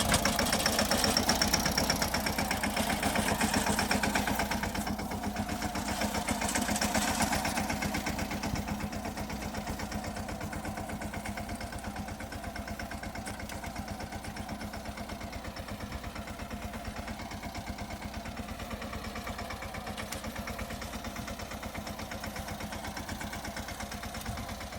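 A Swaraj tractor engine runs steadily during groundnut harvesting on a Gujarat farm, a continuous close mechanical rumble with a slight knocking pulse that eases a little after the first few seconds.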